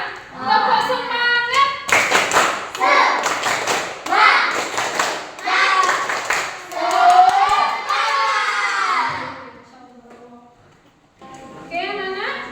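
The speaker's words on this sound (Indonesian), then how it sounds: "Tepuk semangat." A classroom of pupils doing a rhythmic spirit clap led by a teacher, loud bursts of patterned clapping and taps mixed with children's shouting and chanting voices, near and lively.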